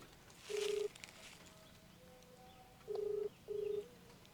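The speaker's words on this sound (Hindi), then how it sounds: "रुका अपने मोबाइल से फोन करता ही" Short electronic tones from a mobile phone sound in a quiet room: one beep, a pause, then two more in quick succession, clear and moderately near with no talking.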